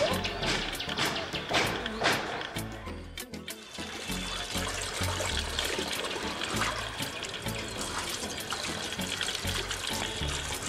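Pieces of freshly cut pabda fish are rinsed in water, with continuous splashing and trickling close by and a few sharper sloshes near the start.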